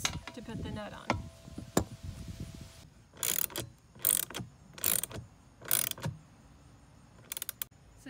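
A wrench ratcheting a nut onto a bolt while assembling a Gorilla GCG-7 dump cart: several short bursts of close, clicking ratchet turns separated by pauses, after some low handling noise.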